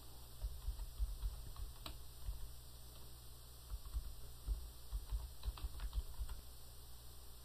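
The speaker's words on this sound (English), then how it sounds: "Let me go ahead and type in the name." Quiet, steady typing on a computer keyboard while entering a vendor name into accounting software, with soft scattered key clicks throughout over a faint background hiss.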